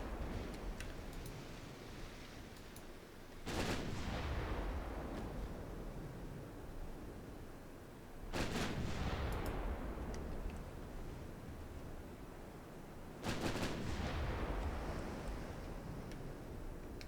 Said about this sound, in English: fire off all the remaining ammo